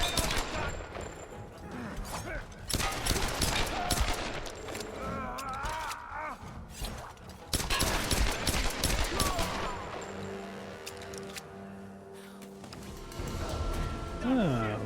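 Trench shotgun blasts in Tomb Raider (2013), several loud, sharp shots spaced irregularly amid game action, mechanical clatter and music, with a voice talking over parts of it.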